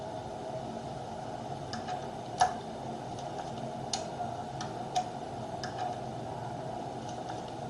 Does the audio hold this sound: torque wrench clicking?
yes